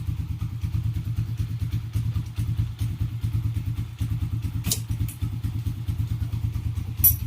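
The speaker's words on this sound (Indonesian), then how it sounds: "Masukin gigi nih, kita masukin gigi." A motorcycle with a dead speedometer runs steadily after being put into gear, its engine giving an even, close rhythmic thumping throughout, with a sharp clatter near the end.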